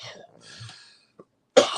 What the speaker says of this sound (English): That's not me coughing this time.